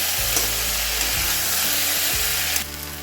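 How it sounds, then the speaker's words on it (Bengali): Boiled gathi kochu taro and potatoes tossed with spices in a pan for Bengali curry, a dense continuous sizzle with low scraping stirs and thumps at roughly one-second intervals, easing slightly at the very end. "গাঠি কচু দিয়ে আমি এখন এই মশলা, গাঠি কচু, আলু ভালো করে কষিয়ে নেব।"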